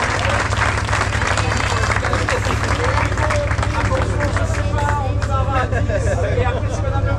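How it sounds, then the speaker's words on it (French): A crowd applauds loudly and steadily before the start of a midnight trail race, the dense clapping mixed with cheering and chatter throughout. "Est-ce qu'on peut lever les mains pour s'applaudir une dernière fois, une dernière poignée de main?"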